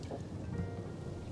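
A thunderstorm in the video game Life is Strange: Double Exposure, with a continuous wash of steady rain and a low rolling rumble of thunder underneath, moderately quiet and with no voices.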